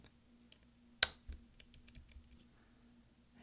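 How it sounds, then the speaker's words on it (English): A replacement F11 key snaps onto its scissor clip on a mid-2010 13-inch MacBook Pro, giving one sharp click, followed by faint soft taps and a low steady hum. "now we're going to use our finger to push down so that the clips underneath the F11 will attach to the actual scissor clip"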